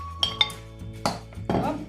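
A few light clinks and clatters of seafood dropped into a metal saucepan, close up, with short knocks and scrapes between.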